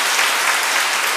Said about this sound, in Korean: 박수 좀 환영하세요